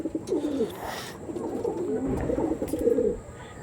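Kalshira pigeons coo nearby in a steady, throaty warbling rolled over several seconds, close and moderately loud.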